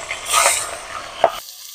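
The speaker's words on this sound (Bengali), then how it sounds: "মাথাটা যেহেতু বড়, ওর জন্য আমি মাথাটাকে আগে ভেজে নেব" A large rohu fish head fries in hot oil with a close, bright sizzle and a single sharp clink near the end before it cuts off abruptly.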